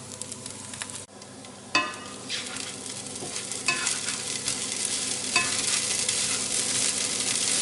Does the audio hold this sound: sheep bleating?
no